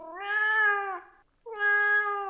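A cat sitting by a roadside gives two drawn-out, mournful meows in a row, each about a second long with a brief pause between, loud and close with no other sound.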